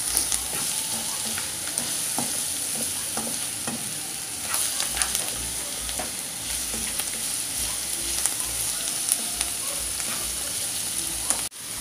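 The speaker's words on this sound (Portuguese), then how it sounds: "Agora coloquei o alho, deixei dourar um pouquinho também." Garlic fries until golden in a pan for a shrimp-in-pumpkin dish, giving a steady, close crackling sizzle broken by frequent sharp stirring clicks and scrapes, with no speech.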